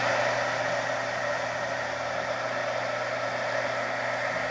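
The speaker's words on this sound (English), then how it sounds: "my embossing gun on now, so excuse the noise." An embossing heat gun blows steadily while heat-setting work on vellum, a continuous loud whooshing roar with a faint hum beneath, unchanging throughout.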